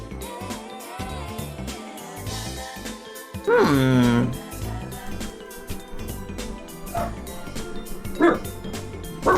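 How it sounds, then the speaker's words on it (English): A dog barks and yips somewhere in the room, a short burst of bright barking standing out briefly over steady game music. "Oh, Samuel is barking"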